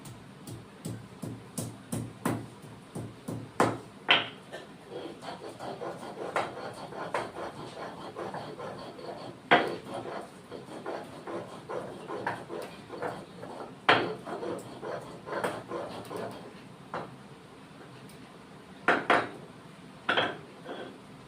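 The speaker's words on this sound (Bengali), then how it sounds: "বন্ধুরা কষা হয়ে যাচ্ছে এখন আদা বাটছি এই যে আদার টুকরো" Ginger pieces are ground by hand, close and fairly quiet, a steady series of irregular knocks and scrapes repeating through the whole stretch, with a few sharper louder strikes.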